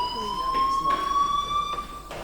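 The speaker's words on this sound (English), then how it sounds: "do you hear that fire alarm? That means you should be outside." A school fire alarm rings in Life Is Strange, a steady, continuous electronic tone that holds throughout at moderate loudness, with a voice talking faintly underneath.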